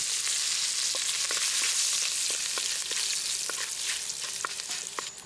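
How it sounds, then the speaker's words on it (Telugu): Curry leaves fry in hot oil in a pot with a steady bright sizzle and scattered crackles and pops, close and continuous with no talking. "ఇదే కుండలో మళ్ళీ నూనె పోసుకుందాం ముందుగా కరివేపాకు వేసుకుందాం"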